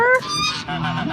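A farm goose honks loudly at close range in a short run of nasal calls, with no voices over it.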